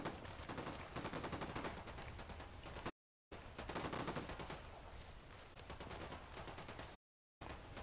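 Bursts of automatic gunfire from a Ghost Recon Wildlands firefight, loud and dense, rattling steadily for nearly three seconds, cutting to silence, then resuming in another sustained volley before a second abrupt gap.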